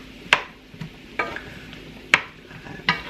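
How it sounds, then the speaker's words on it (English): Mushrooms and onions cook in a pan with a steady low sizzle, broken by several sharp clacks and scrapes of stirring at close range; no one speaks. "we're gonna toss our mushrooms and our onions in our pan there"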